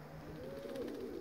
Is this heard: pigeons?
yes